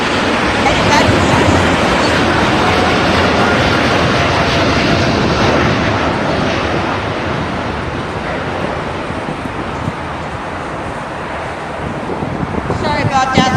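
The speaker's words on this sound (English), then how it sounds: "That was a very, very sudden takeoff. But that was our Lufthansa 747-800 headed back to Frankfurt, Germany." A Lufthansa Boeing 747-800 jet takes off at LAX, bound for Frankfurt, with a loud, sustained broadband engine roar mixed with wind buffeting on the microphone. The roar holds steady, then eases slightly toward the end.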